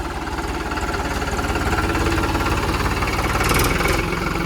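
A Powertrac Euro 50 tractor, a 50 hp farm machine, runs in second gear with a steady, loud diesel throb and a fast, even low-pitched knock. The sound holds close and constant throughout, with a faint hiss rising briefly near the end.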